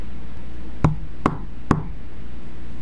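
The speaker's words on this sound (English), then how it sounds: "you hear a knock on your door, and Carl's soft voice following along." Three distinct knocks on a door, evenly spaced and fairly close, sounding crisp against a quiet room with no talking.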